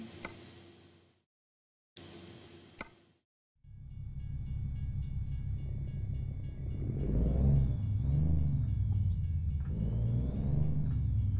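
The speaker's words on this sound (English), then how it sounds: "And here comes the train." In American Truck Simulator, two short bursts of noise separated by silence, then a deep rumbling train builds and rolls past with clicking and rattling, loud and continuous.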